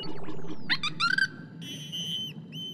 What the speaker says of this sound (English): Never heard that whistle before